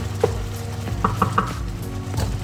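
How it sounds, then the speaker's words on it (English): Roast-chicken gravy cooks in a pan with a soft sizzle, broken by a few quick clinks and scrapes of stirring close by, with no voices. "this gravy's been simmering"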